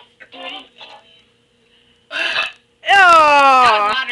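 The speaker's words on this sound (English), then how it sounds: "That's gonna make you burp." A young person lets out a loud, long, croaky burp after drinking water, heard close up, following a few short, quiet throaty sounds.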